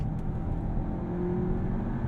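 A 2024 VW Arteon's engine drones and builds with a low, steady roar under hard acceleration, close and fairly loud, with no voices.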